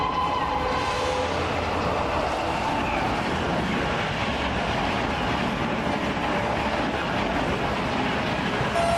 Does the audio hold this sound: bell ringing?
no